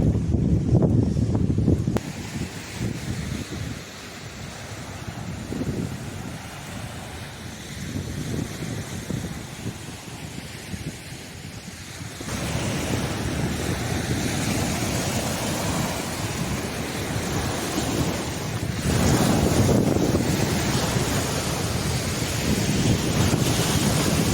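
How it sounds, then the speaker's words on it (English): Strong wind gusting outdoors at a cold campsite, roaring and buffeting the microphone in long surging waves with heavy low rumble, no talk. "Oh, it's a little bit less windy on this side"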